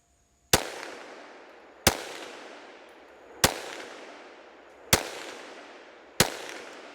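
Five evenly spaced .22 Magnum pistol shots fired at a 4-inch steel plate 100 yards away, each a sharp crack with a short decaying echo, with no voices.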